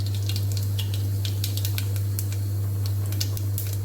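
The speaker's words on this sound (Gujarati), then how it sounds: "એમાં રાઈ જીરું એડ કરીશું આપણે" Mustard seeds and cumin crackle in hot oil inside a pressure cooker, with scattered sharp pops and a light sizzle over a constant low electrical hum.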